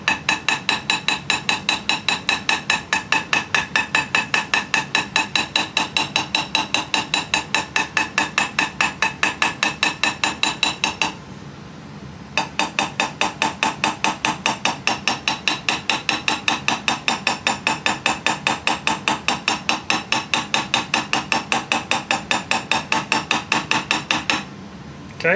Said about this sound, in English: you'll push the mandrel farther in and you'll continue knocking the dent out